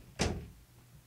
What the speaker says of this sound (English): Someone closed my door.